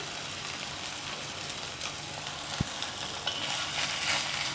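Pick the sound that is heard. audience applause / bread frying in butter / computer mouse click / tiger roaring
bread frying in butter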